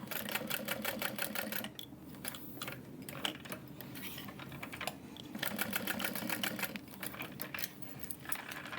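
Sewing machine stitching a box stitch on a tote bag, a rapid mechanical clatter in bursts with short pauses between runs, close and steady, with no voices.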